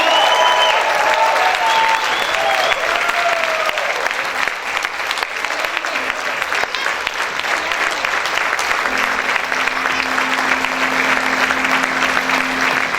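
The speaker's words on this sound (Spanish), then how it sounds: "Vamos a aplaudir fuerte al Rey." Church congregation clapping loudly and steadily for the King during worship, a dense continuous wash of applause throughout, with a low sustained keyboard tone joining in the second half.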